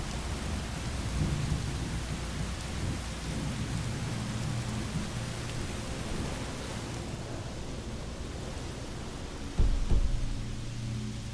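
Steady heavy rain and rolling thunder from a thunderstorm in the Skyrim video game, a dense continuous wash with a louder rumble near the end, no voices.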